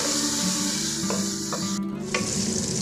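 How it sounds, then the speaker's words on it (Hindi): Spice masala with salt and turmeric frying in a pan, a continuous close sizzle with occasional light scraping clicks from stirring. "ये थोड़ी सी हल्दी डाल, मसाले को अच्छे से भून लेंगे।"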